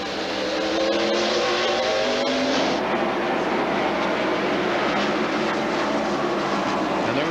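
NASCAR stock cars racing at the 1995 Hanes 500, a loud, sustained engine roar with rising and falling pitch as the pack passes, no voices.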